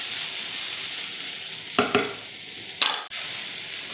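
Sliced fennel and carrots sizzle in a hot sauté pan, a steady close hiss broken by a few sharp scraping strokes of a utensil stirring the vegetables.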